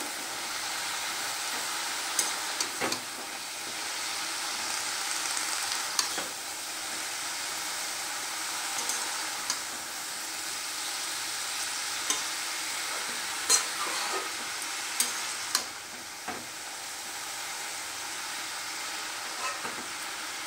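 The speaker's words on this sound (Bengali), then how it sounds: "এবার শাকগুলোকে আমি একটু নেড়ে দেব।" Chickpea greens fry in a wok under a steady hiss, with occasional scraping clinks of a spatula as they are stirred, close and continuous without voices.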